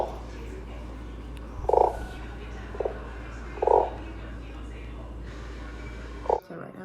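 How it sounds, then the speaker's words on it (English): Several short, deep frog croaks sound in sequence, four separate rasping bursts spaced a second or two apart over a low steady hum, fairly close and clear. "Some kind of frog."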